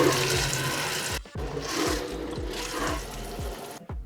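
Water running from a sink tap inside a motorhome, a steady rushing flow that starts, cuts off briefly and resumes, with repeated low thumps from the plumbing underneath.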